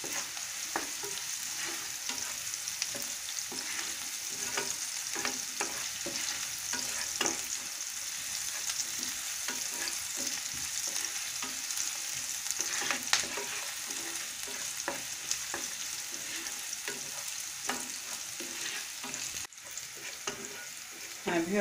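Onions fry lightly in a pan with a continuous crackling sizzle that stays fairly even throughout, dotted with small pops and occasional stirring scrapes.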